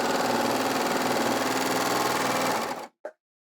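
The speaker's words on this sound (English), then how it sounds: "I'll just sew the wrong side of the fabric as well, so that the threads show up a bit better for you" A Baby Lock Enlighten overlocker stitching along the wrong side of fabric, a loud, steady whirring hum running continuously for nearly three seconds before stopping abruptly, followed by one short mechanical clunk, with no voices.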